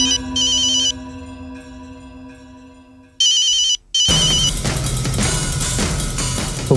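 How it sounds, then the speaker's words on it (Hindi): A phone ringtone in a late-night Hindi TV drama scene: two bursts of warbling electronic ringing with a pause between them, followed by a loud, dense burst of sound that swamps the rest. "साला ये फोन क्यों नहीं उठा रहा है?"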